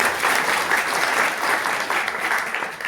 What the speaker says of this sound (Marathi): त्यांच्यासाठी एकदा जोरदार टाळ्या होईल.